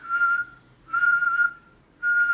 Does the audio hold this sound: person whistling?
yes